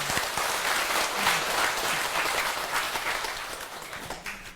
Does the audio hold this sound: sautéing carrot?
no